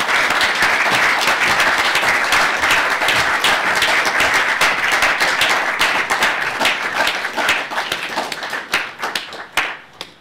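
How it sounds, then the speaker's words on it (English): Loud, dense applause from a large crowd, sustained at first and then thinning into scattered claps as it fades out. "one last big round of applause"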